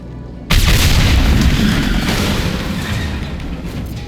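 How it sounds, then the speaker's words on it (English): In Mass Effect 2, a sudden heavy boom from exploding tanks hits after a half-second of quiet, followed by a long rumbling, fading tail of debris and echo. "It'll take heavier weapons than that to blow those tanks."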